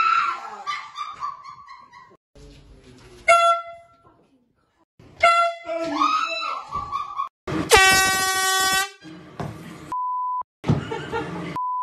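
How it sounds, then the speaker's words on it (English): Air horn prank with loud, harsh horn blasts going off close by amid barking and whimpering dogs, sharp electronic beeps and short bursts of noise, a sustained blaring stretch near the middle. "The air horn pranks."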